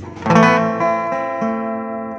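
An acoustic guitar played through a DI box strums a few chords clean and close, each strum ringing out and fading, with no other sounds.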